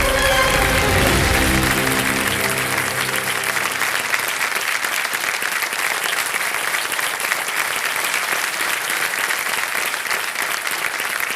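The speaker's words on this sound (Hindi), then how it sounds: "आइए जोरदार तालियों के साथ।" A TV quiz show studio audience bursts into loud, sustained applause, a dense wash of clapping that starts over a fading music swell and carries on steadily throughout.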